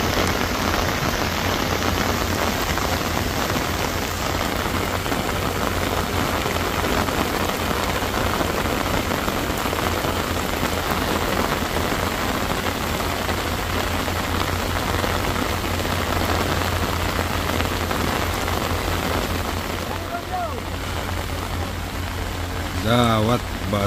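Heavy rain pouring steadily at the Batu Jomba road landslide area in Indonesia, a loud continuous hiss of drops drumming on surfaces that lasts the whole stretch, with a steady low hum beneath and brief voices near the end.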